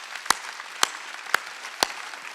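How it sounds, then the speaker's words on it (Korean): A church congregation at a Sunday service claps together in four sharp, evenly spaced beats about half a second apart, with a murmur of room noise underneath. "박수 치라고."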